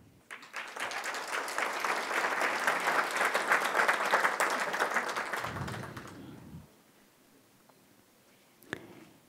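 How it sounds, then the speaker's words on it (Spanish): A ceremony audience applauds new doctoral graduates at a university conferral. Brisk clapping starts abruptly, holds strong for about six seconds, then dies away into near silence, with a faint thump near the end. "Damos un aplauso de felicitación a los nuevos doctores del área de Ciencias Exactas y Naturales"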